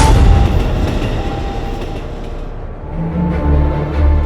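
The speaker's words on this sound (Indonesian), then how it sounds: "kalau keretanya lagi lewat gitu" A loud train rumbles past close by, heavy low roar with rattling wagons and clattering wheels, fading slightly then surging again.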